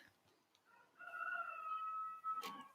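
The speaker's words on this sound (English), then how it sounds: "Can you hear my rooster?" A rooster crowing during a quiet yoga session, one long drawn-out crow that rises and holds before breaking off, heard clearly against a still room.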